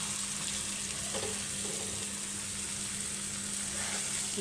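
Bottle gourd peel and potato slices fry in hot oil with turmeric, a steady soft sizzle with occasional faint scrapes of stirring, quiet and continuous with no voices.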